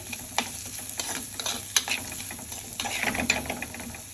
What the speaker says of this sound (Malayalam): നമ്മൾ ഇതിലേക്ക് കുറച്ച് ഉപ്പ് ആഡ് ചെയ്തിട്ട് ഇളക്കി കൊടുത്തു കഴിഞ്ഞാൽ പെട്ടെന്ന് ഇത് വഴണ്ടി കിട്ടും